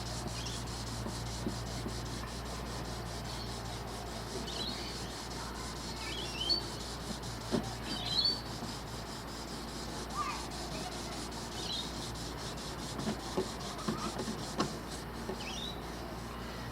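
A sanding block rubs back and forth over paint on a 1988 Suzuki GSX-R Slingshot part, a soft continuous scratchy rasp with faint birdsong and a low hum in the background.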